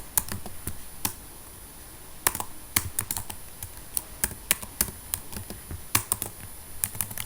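Typing on a computer keyboard while writing HTML in Visual Studio: irregular, crisp keystroke clicks, sometimes in quick runs and sometimes spaced out, close up with no talking.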